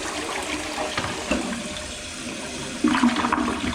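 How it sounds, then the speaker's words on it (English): An older toilet flushes up close, water rushing and gurgling steadily through the bowl with a louder surge near the end, no voices over it. "make sure the toilet's flushing"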